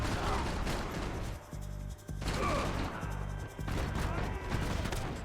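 Gunfire crackles in Max Payne 3, loud overlapping volleys in several bursts broken by short pauses, close and harsh with game noise around them.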